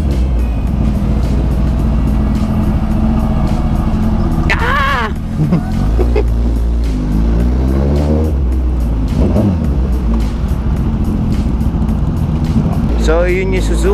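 A Suzuki GSX-S1000 motorcycle engine idles and blips while being maneuvered in a tight spot, a loud close rumble with short rising revs, under someone talking throughout.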